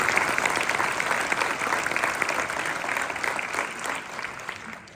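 Steady, dense applause from an audience at a 2024 New Year's wishes ceremony in Langeais, sustained and fairly loud for the whole stretch, easing slightly toward the end.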